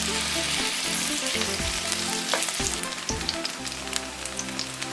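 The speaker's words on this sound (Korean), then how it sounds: "팬을 중약불에 올리고 기름 충분히 둘러서 달궈지면 반죽을 1스푼 크게 떠서 넣고 동그랗게 모양을 잡아준다." Chive pancake batter fries in a well-oiled pan over medium-low heat, a steady dense sizzle and crackle with occasional stirring scrapes, close and continuous throughout.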